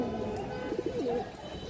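A large pigeon coos softly, a short series of low, rolling murmurs close by against a quiet background, with no voices.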